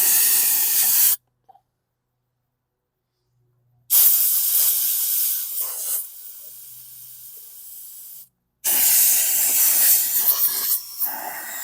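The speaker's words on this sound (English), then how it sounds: "I'm going to blast some compressed air in here." Compressed air blasting into a Hyper Tough lawn mower during a fuel-system repair: two loud, sustained hissing bursts of several seconds each, the second ending abruptly, separated by near silence.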